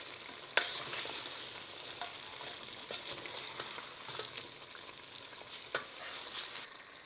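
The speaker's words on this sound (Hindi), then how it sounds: "अब इस पे डाल देंगे गोभी। बिस्मिल्लाहिर्रहमानिर्रहीम। इसको अच्छी तरह मिक्स कर लेंगे।" Cauliflower and partly cooked potatoes stirred together in a cooking pot for a Punjabi-style gobhi aloo, with a steady sizzle under repeated scraping and clattering strokes of a spoon against the metal.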